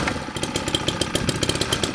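A small gas engine on a portable water pump runs steadily just after a pull start, with the choke still on and the throttle set just above idle. It holds a fast, even putter close by, with no talk over it.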